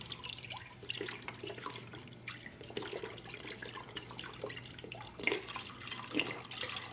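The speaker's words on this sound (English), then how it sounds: "I'm going to put my soy milk in." Soy milk poured into an Instant Pot, a quart of it, for plant-based Greek-style yogurt: a continuous, moderately quiet liquid trickle with small splashy drips, steady for several seconds with no talking.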